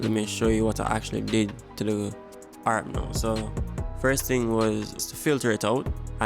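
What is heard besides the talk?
No distinct noise like a dog, phone or traffic.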